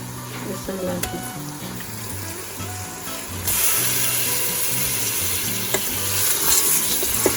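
Lamb meat sizzles loudly in hot oil with onions while being stirred, with scraping and clinking utensil sounds; the frying hiss swells partway through.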